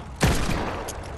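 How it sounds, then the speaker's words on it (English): A pistol in a video game fires one sharp, close shot that ends quickly with a brief tail of reverberation. "Shoot your pistol."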